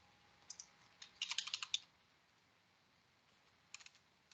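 Keystrokes on a computer keyboard while filling in a Microsoft Forms questionnaire: a few scattered taps, then a quick burst of clicks and a short cluster near the end, faint against a quiet room.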